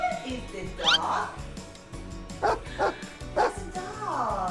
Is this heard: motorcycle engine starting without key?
no